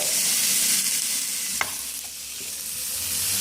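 Black pudding (boudin noir) frying in a pan with apple gives a steady, close sizzle with soft hiss, with a small tap or stir partway through.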